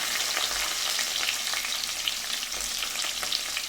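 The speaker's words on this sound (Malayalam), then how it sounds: "ചുവന്നുള്ളി നല്ലോണം ഒന്ന് മൂപ്പിച്ചെടുക്കണം" Shallots fry in hot coconut oil with mustard seeds and fenugreek, giving a steady, close sizzle and crackle without pause and no talking.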